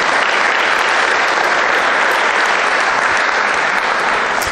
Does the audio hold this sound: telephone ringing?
no